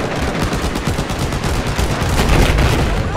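Dense, continuous gunfire in Battlefield 4, rapid automatic bursts overlapping into a steady loud barrage with no pauses throughout.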